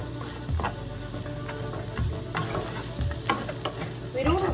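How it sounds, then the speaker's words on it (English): Dried beef frying and browning in a pan, a dense close sizzle with repeated stirring knocks and scrapes of a utensil against the pan. "I mean, it's getting fried, or should I say it? It's getting brown."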